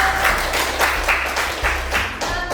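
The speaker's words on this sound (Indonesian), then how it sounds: "Oke, tepuk tangan dulu." Students in a classroom clap together in a short burst of applause, a steady wash of many hands that carries through the whole brief moment without voices.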